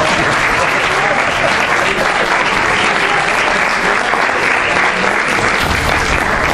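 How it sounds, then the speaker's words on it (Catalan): Dense, loud applause from an audience fills the whole stretch at a ceremony of a Barcelona supporters' club, a steady wash of many clapping hands with no break. "Un fort aplaudiment, no?"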